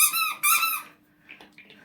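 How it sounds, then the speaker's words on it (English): A squeaky toy gives two loud, close squeaks in quick succession, followed by fainter softer squeaks, with no one speaking. "Just found a squeaky toy. That's who you're hearing in the back."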